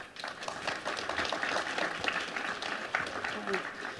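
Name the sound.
audience applause welcoming the speakers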